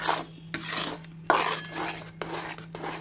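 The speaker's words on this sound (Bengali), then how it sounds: "ভালো করে এটা নেড়ে নিচ্ছি" A spoon stirring a thick jujube pickle in a kadai on low gas, with repeated scraping strokes and metal clinks against the pan over a steady low hum, close and moderately loud.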